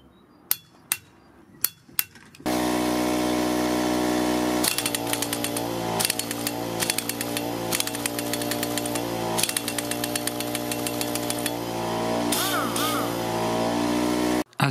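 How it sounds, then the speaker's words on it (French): A Parkside PDSS 310 pneumatic impact wrench, fed by a Parkside PKZ 180 compressor, hammers on a car wheel nut: a few short bursts at first, then a long, loud, continuous rattling hammer with steady, close-up intensity. "Là au niveau de la clé à choc Parkside, je suis en vitesse 4"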